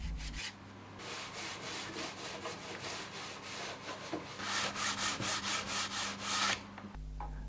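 Close, rhythmic rubbing strokes applying antique pine wax to a pallet-wood coat rack, a repeated scratchy back-and-forth swish of moderate loudness with no talking.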